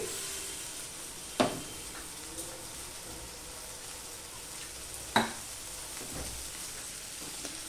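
Pre-fried flat beans go into a pan (kadai) and are stirred in a soft, steady sizzle, broken by two sharp metallic clinks of the utensil against the pan.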